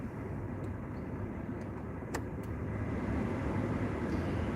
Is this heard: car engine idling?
yes